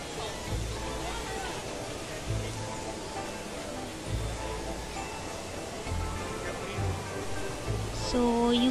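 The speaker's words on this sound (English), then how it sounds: "It's a centrepiece, is the world's tallest indoor waterfall, and the rain vortex" Jewel's indoor waterfall, the Rain Vortex at Singapore's Changi Airport, gives off a steady, soft rush of falling water inside the terminal, with faint dull thumps and a distant murmur of people.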